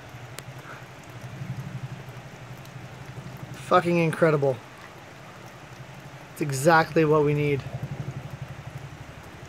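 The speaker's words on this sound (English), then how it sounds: "It is fucking raining so hard right now." Heavy downpour, the first real rain in almost four months, soaking ground that had been dry since May: a steady, dense hiss of falling water throughout, with someone talking over it twice.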